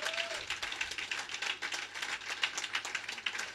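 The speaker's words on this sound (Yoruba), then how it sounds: "ẹ bá mi pàtẹ́wọ́ fún wọn" An audience claps for a pastor's wife at a church gathering, a steady patter of many hands through the whole stretch, fairly faint and even.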